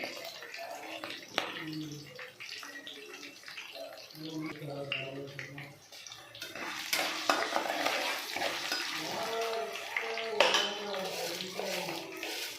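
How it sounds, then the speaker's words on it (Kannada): Sliced green chillies and mustard seeds fry in hot oil in a pan for lemon rice, a soft steady sizzle with occasional stirring and pan clatter beneath someone talking throughout. "ಇದರಲ್ಲಿ 4 ಚಿಲ್ಲೀಸು ಸ್ಲೈಸ್ ಮಾಡ್ಕೊಂಡು ಹಾಕ್ಕೊಳ್ತಾ ಇದ್ದೀನಿ. ಇದು ಸ್ವಲ್ಪ ಸಾಸಿವೆ,"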